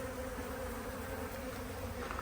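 Robbing bees swarm and attack a colony at a Paynes poly hive, a dense steady buzzing of many insects close by, continuous and fairly quiet with no talking.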